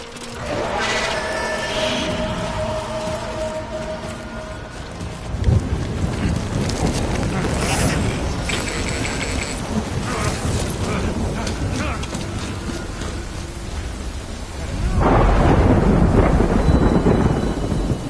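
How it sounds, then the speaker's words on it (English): Rain and rolling thunder in a video game, a steady close downpour with heavy low rumbles that swell near the start and again toward the end, with no talk. "Good thing it was raining."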